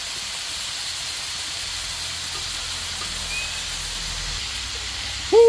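Deer meat sizzles on a Blackstone griddle outdoors, a steady broad hiss running throughout, with a brief louder clatter right at the end.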